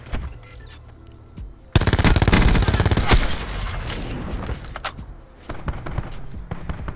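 Auger DMR fire in Call of Duty Black Ops 4 multiplayer, a sudden dense burst of rapid, loud shots lasting about two seconds, then scattered further gunfire and game noise.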